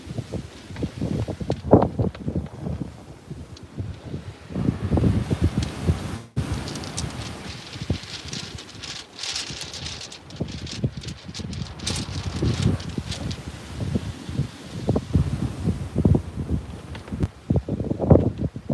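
Wind buffets a microphone at a sea fishing spot, gusty low rumbling and rustling that swells and fades irregularly, close and steady throughout, with no voices.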